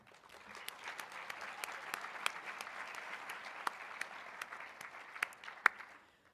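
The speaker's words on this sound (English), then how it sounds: "Please join me in a big round of applause to show our appreciation" A room full of attendees at a broadcasting luncheon applauds a presenting sponsor, fairly quiet, scattered clapping with a few sharp, distinct claps standing out before it fades.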